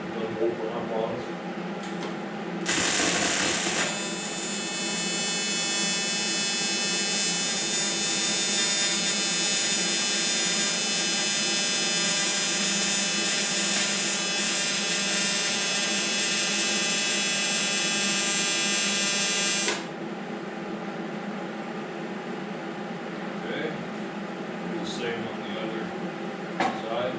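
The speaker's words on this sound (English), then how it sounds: "let's get another tack here in the middle" An electric welder lays a tack weld on a Wheel Horse garden tractor, giving a sustained buzzing, crackling hum for about seventeen seconds before cutting off, with quiet background noise around it.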